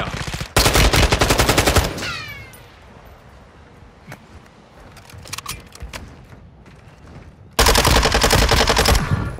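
Two loud bursts of rapid automatic gunfire in Call of Duty MW2 Resurgence, one at the start and another near the end, with quieter scattered shots and game noise in between.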